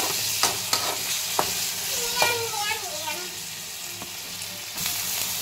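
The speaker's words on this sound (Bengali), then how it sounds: "এবার টমেটোটাকে ভালো করে একটু নরম করে ভেজে নিতে হবে।" Chopped tomatoes and onions fry in a pan under a constant close sizzle, punctuated by sharp clacks and scrapes of a spatula stirring, with a voice speaking over it.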